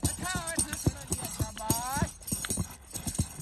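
A dancing horse's hooves clip-clop in a quick, uneven rhythm, loud and close, while a man cheers and praises the horse over the steps.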